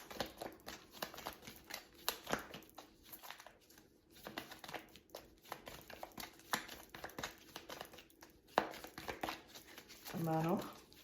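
Tarot cards being drawn and handled during a reading, heard as close, soft crinkling, shuffling and rustling in quick irregular bursts, with a voice speaking near the end.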